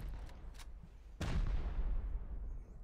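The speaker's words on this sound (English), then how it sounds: "watch out for rocket" A rocket explodes in the video game Rust with one sharp, heavy boom that leaves a long low rumble. A few fainter gunshot pops come just before it.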